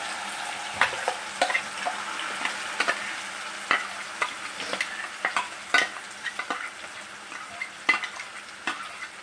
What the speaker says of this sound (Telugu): ఇది 1 నిమిషం పాటు కొంచెం మీడియం ఫ్లేమ్లో పెట్టుకొని 1 నిమిషం పాటు బాగా ఫ్రై చేసుకోవాలి